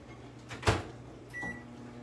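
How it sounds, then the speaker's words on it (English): Microwave oven humming steadily with a low drone, a loud thump around the middle like a door or container being handled, then a bright beep tone near the end, close and quiet, with no talking. "So give me a second to stick this in the microwave."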